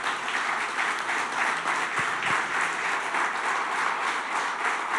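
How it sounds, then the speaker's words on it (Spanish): Church congregation applauding the Lord during a Spanish-language service, a dense, steady wash of many hands clapping throughout, with a couple of brief low thumps partway through. "¿Por qué no le das tu mejor aplauso al Señor?"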